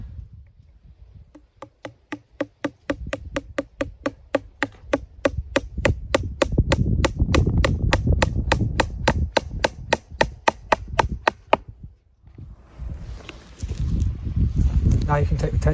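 A hammer drives a nail into a wooden fence post on a homestead, a fast run of sharp, evenly spaced knocks that carries on for about ten seconds before stopping, followed by rustling.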